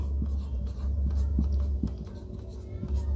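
Marker or chalk writing on a classroom board during a maths lesson on fractions, a series of soft, scratchy strokes repeating at an irregular pace over a low background hum.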